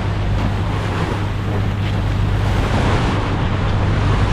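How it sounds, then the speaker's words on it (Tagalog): Ocean waves washing past a fiberglass boat at sea east of the Philippines, a steady broadband rush with wind buffeting the microphone and a constant low engine-like hum, loud and unbroken throughout. "nakakaaliw panoorin yung mga alon"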